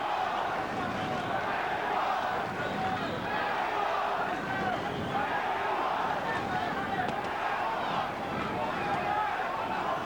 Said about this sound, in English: Crowd chanting Mexico, Mexico, trying to lift Chavez up.